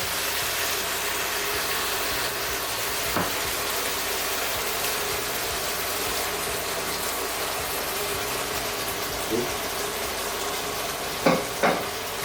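Steady broadband sizzling from a hot pot as canned tomatoes are added, with a few soft clinks of a utensil stirring near the end; no voices.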